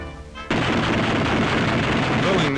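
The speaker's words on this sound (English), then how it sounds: "testing the guns" Machine guns on a World War II P-47 fighter being test fired on the ground by crew, a sudden continuous roar of rapid gunfire that starts abruptly and holds loud and dense to the end.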